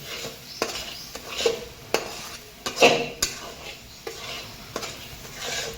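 A spoon scrapes and stirs thick masala gravy roasting in a metal pan, giving irregular clinks and knocks against a soft continuous sizzle, close and clear with no voices.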